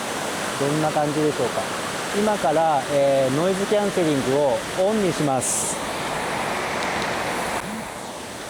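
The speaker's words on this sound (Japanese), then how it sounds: "で結構川があってうるさい環境なんですが、どんな感じでしょうか。" Loud, steady rushing of a river outdoors fills the whole stretch, with a person talking over it for most of the time before the roar continues alone.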